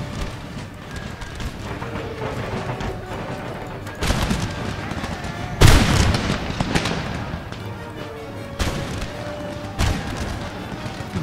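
Artillery booms during a siege in Empire: Total War, with irregular heavy blasts, one especially loud, over a constant rumble of battle and distant crackling gunfire.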